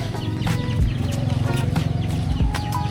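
Chickens cluck nearby in quick, repeated bursts, a busy flock of farmyard fowl heard up close with no talking.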